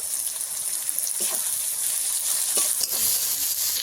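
Tomatoes fry in a pan with garlic and onion, producing a bright, steady hiss of sizzling oil up close, with a few soft scrapes of stirring breaking through.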